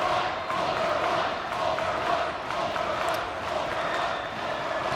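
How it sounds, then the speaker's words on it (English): Steady crowd noise fills a high school boys basketball section final, Park Center versus Maple Grove, with both sides cheering and a broad, continuous roar that rises and dips slightly throughout. "Great crowd, both sides tonight."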